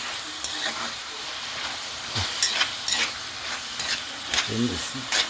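Ackee and saltfish stirred in a frying pan, with a steady sizzle and repeated scraping strokes of the spoon across the pan, close up and with no talking.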